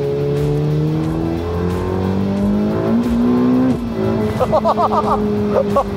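A new petrol sports car accelerates hard from close by, its engine pitch climbing through several gear changes, with a few short bursts of speech near the end.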